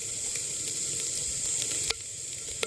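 Tempering crackles in hot oil over sautéed onion, garlic and curry leaves in an outdoor courtyard kitchen, a close, steady sizzle with occasional sharp pops and a ladle clink.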